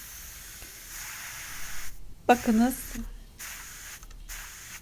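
Steam hisses out of a Fissler pressure cooker being vented after cooking Ezo Gelin soup, a soft close release with a brief sharper burst in the middle, while someone speaks quietly over it.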